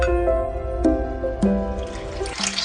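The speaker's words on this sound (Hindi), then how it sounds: "सबसे पहले हम दूध डाल लेते हैं" Milk is poured into a cooking pot in a home kitchen, with a close, bubbling trickle whose pitch shifts as the pot fills, broken by a few short splashy bursts.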